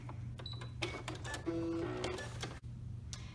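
A sewing machine stitches down the side of a fabric face mask with a pipe cleaner inside, a steady close mechanical whir with small clicks and ticks, no talk.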